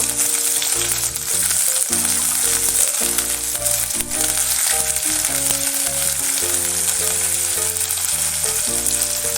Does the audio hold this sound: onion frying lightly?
yes